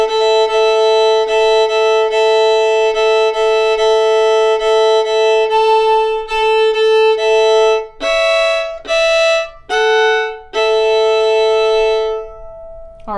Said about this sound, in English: So the way that we would add double stops into this A part